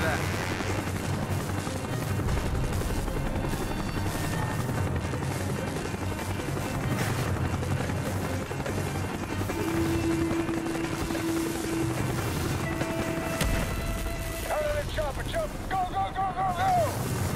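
A helicopter in the Call of Duty Black Ops video game flies with a steady rotor drone throughout, mixed with game sound effects, radio chatter and talk.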